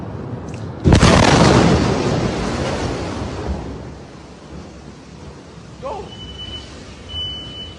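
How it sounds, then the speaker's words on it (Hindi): An Iranian missile strike in Tel Aviv gives one sudden, massive boom that rolls and rumbles away over several seconds. Faint distant noises and tones follow, and no voices are heard. "लगातार ईरान की कई मिसाइलें तेल अवीव में गिर रही हैं।"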